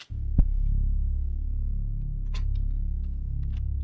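A deep, sustained synth bass tone with a buzzing, throbbing low end, holding steady with a few faint clicks on top.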